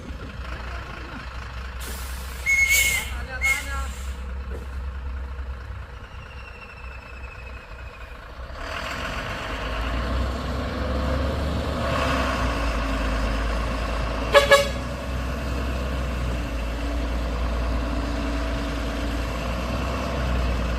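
Fuso Victor truck engine idling with its front wheel chocked on a hill road; a steady low rumble throughout, with an air brake hiss and a short horn toot early on and a brief sharp burst near the end.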